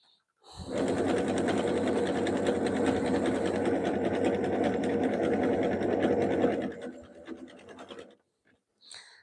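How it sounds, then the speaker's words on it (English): A sewing machine runs steadily and loudly for about six seconds as fabric strips feed through for a Jolie Mason jelly roll rug, then slows, stutters and stops, with a brief faint click afterward. "I'm just letting the fabric feed through the machine at a nice, even pace"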